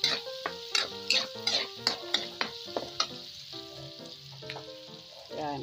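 Black beans sauté in the oil left from frying tofu. A moderate sizzle runs beneath a series of sharp, rhythmic utensil clinks and scrapes against the pan, about one every half second, and then eases into a softer hiss.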